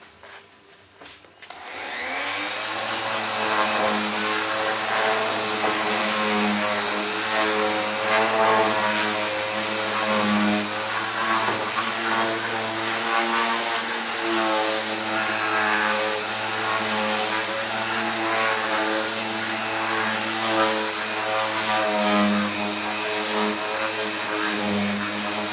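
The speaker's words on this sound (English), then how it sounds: "let's do some sanding" A power sander starts up and runs steadily with a loud, high whirring hum, its motor droning continuously as it sands a cedar bar top.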